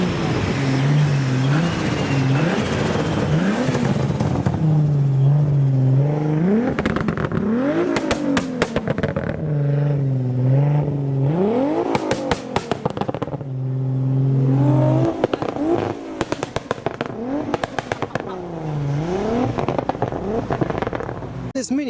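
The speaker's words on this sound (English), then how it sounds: "there is a Toyota Supra making sounds" A Toyota Supra sports car engine revs repeatedly, pitch climbing and dropping in bursts with crackles, fairly close and loud, with some talking mixed in, at a modified car show.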